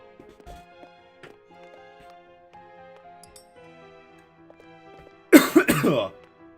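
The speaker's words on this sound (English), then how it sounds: "Cough, cough." A short burst of coughing and throat clearing near the end, loud and close, preceded by quiet, faint tonal game music from the Triangle Strategy video game.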